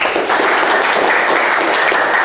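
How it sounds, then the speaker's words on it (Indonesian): A classroom group in an automotive engineering lesson breaks into loud, close, dense clapping that holds steady for a couple of seconds. "Oke, ya, tepuk tangan untuk kita semua."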